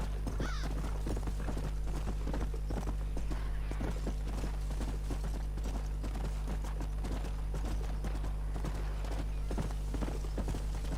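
Horse hooves clip-clop at a steady walking rhythm in the Red Dead Redemption video game, a soft, even beat over a low constant rumble, with no talking.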